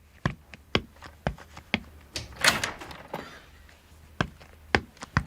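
A series of sharp wooden thumps and knocks from a door being handled and opened, spaced irregularly and close, with a brief rustling scuffle in the middle and no talk.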